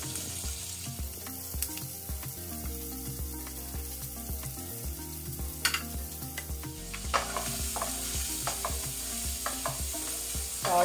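Green chilli, onion and carrot sauté in salted butter in a pan, giving a close, even sizzle broken by stirring scrapes, with soft music playing underneath.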